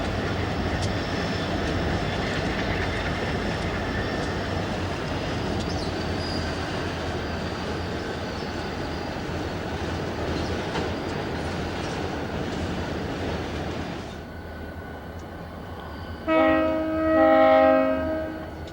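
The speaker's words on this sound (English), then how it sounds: "Another westbound comes into the yard with a trio of SD40-2s and a C40-8 trailing fourth." A Union Pacific freight train led by EMD SD40-2 and GE diesel locomotives rolls steadily through the Roseville yard with a loud, continuous rumble and wheel noise. Near the end its multi-chime horn blares in a short burst.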